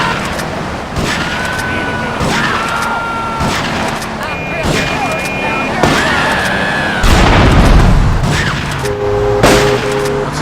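Vehicles blowing up under shotgun fire in Grand Theft Auto III's Staunton Island, with dense overlapping blasts, engine rumble and horns and a heavy boom near the end, mostly under continuous talking.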